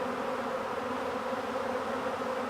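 A honeybee swarm hums in a steady, dense buzz, the agitated bees lifting into flight close by, with no voices over the drone.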